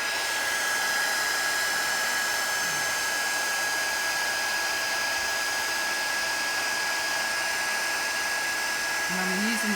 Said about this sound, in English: I'm using the Wow heat tool